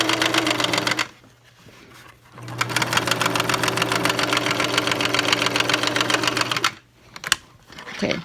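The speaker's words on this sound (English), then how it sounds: "I'm going to top stitch all the way across" A sewing machine top stitching across a handmade fabric face mask runs in fast, even rhythmic needle strokes, loud and close, with two brief pauses between sewing runs.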